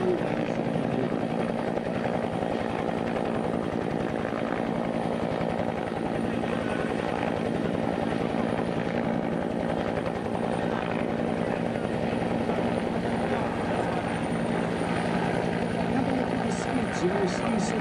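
A helicopter hovers at the Malta International Airshow, giving a loud, steady rotor thrum with engine whine that continues for the whole stretch, while a commentator talks over it.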